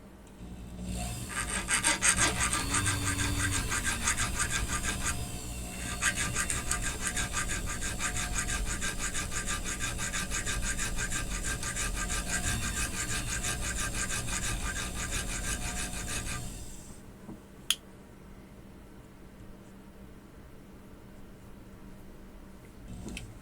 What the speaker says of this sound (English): I don't want to bend it at all as I'm filing it